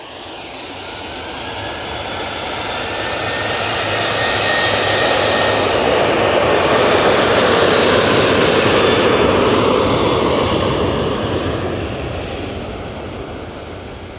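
An easyJet airliner's jet engines roar past at Manchester Airport, swelling from a distant rumble to a loud broad roar mid-pass and fading away again, with no voices.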